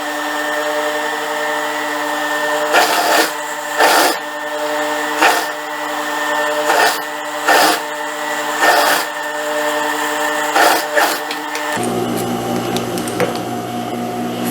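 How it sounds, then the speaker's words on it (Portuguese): A sewing machine stitches a sleeve onto a dress, steady motor hum broken by about eight short bursts of faster stitching, close and fairly loud, with the machine stopping near the end and a lower hum continuing alone. "vou costurar aqui, ó, juntando a manga com o vestido"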